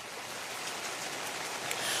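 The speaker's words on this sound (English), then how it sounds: "I've got to point out the fact that it's raining right now." Rain falls steadily outdoors during a news report, a soft, even hiss of drops that holds at a moderate level throughout with no voices.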